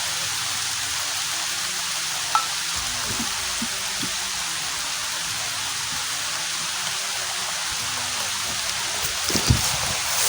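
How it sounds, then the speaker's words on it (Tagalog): Heavy rain pours down steadily at an outdoor spot where a fire had been burning for cooking, a dense continuous hiss with a few faint knocks and thumps near the end. "Lakas na yung ulan dito"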